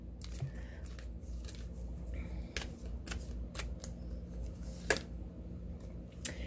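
Tarot cards being shuffled, with some cards slipping out: close, crisp riffling and sharp snapping flicks come in irregular bursts over a low, steady room hum.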